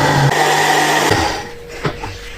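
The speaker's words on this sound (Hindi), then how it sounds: "देसी अंडे डालने के बाद हम इसको अच्छी तरह से जो है ना मिक्स कर लेंगे जूसर के जरिए" A juicer whirs loudly as it mixes desi eggs for khus khus halwa, a steady motor hum that cuts off after about a second, followed by a couple of faint clicks and knocks.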